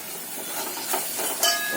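Onion and coconut paste sizzles as it is sautéed in hot oil for a chana soup, a steady close hiss with soft crackles throughout and no talk.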